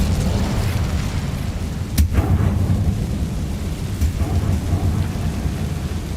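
A fire spell cast in the Hogwarts Legacy video game: one sharp crackling burst followed by a rumbling, roaring whoosh over a steady low ambient bed.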